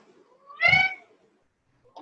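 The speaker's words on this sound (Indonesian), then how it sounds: "Iya, kucing." A cat lets out a single clear, fairly close meow in a quiet room, with a short burst of voice following just after.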